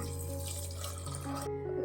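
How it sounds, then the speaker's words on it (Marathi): Water runs in a steady stream into a pressure cooker holding soaked dried peas in a home kitchen, a short continuous pour heard up close with no talk. "याच्यात थोडं पाणी घालणार आहे आता शिजवण्यासाठी"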